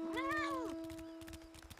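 A single drawn-out cat meow from a character in the video game Final Fantasy XIV, clear and close at the start, then fading into a steady low game tone with soft background sounds.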